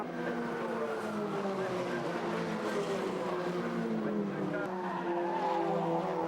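A pack of Formula Ford race cars at Pukekohe in a 2006 New Zealand final, engines droning with shifting pitch as the field runs in a close group, heard steadily at moderate distance under faint commentary.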